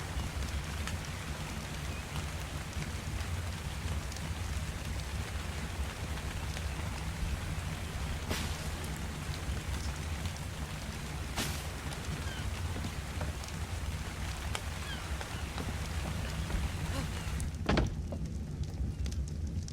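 Steady rain falling in the video game ARK, a continuous hiss of drops over a low rumble, fairly loud and unbroken, with a couple of sharp cracks near the end and no talking.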